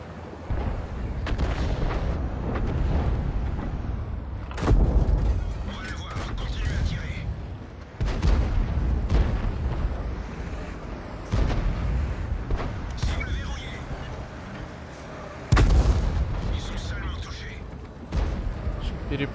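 Tank cannon fire in World of Tanks: several heavy, booming shots spaced seconds apart over a constant engine rumble, with players talking in Russian between them.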